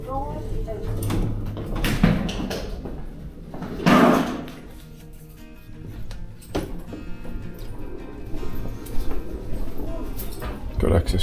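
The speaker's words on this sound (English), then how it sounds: "Going down. Doors open." Elevator doors at a Crowne Plaza hotel in Nottingham slide open with a brief mechanical rumble and clunk, amid a few knocks and thuds, while a person talks nearby.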